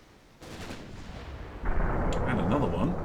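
Naval gunfire in the DIP naval warfare video game, ships trading shots: a sudden heavy boom rolls into a sustained rumble, then a second louder blast swells, with game effects layered over it.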